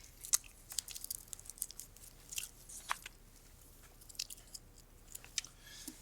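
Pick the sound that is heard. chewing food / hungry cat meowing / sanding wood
chewing food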